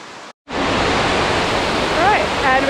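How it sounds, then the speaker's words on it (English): A waterfall in Aros Park on the Isle of Mull, Scotland, a loud, steady, close rushing roar of falling water after a brief cut, with faint whistling tones near the end. "I've had my first glimpse of the waterfall up ahead, and it's a good one."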